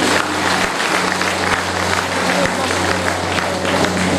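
An audience at a school alumni meet in a hall claps steadily, with a dense continuous patter of applause and a low hum throughout.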